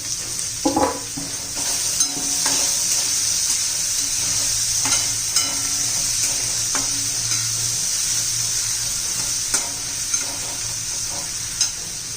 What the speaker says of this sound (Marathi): कांदा परतून घेते मी